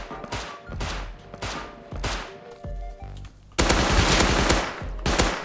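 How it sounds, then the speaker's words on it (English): Rapid gunfire in the survival game Rust, loud bursts of automatic shots repeating in quick succession, then a dense, sustained volley near the end. "I shot him and killed him."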